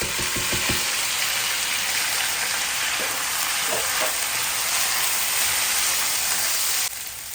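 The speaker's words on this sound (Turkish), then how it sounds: "Havuçları bu şekilde ben önden kızartıyorum arkadaşlar." Steady frying sizzle fills the clip, a dense hiss of food cooking in hot oil, with a few light clinks and stirs near the start.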